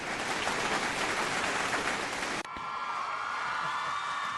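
Applause on a broadcast show rings out loud and dense for about two and a half seconds, then cuts off abruptly into quiet background tones.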